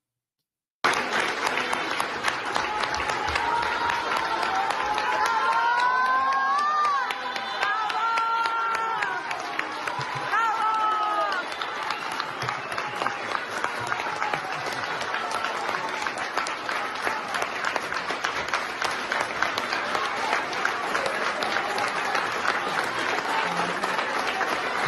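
A crowd at the Supreme Court applauds Minister Piña in a sustained, even roar of clapping that runs unbroken for the whole stretch, with some voices rising above it early on.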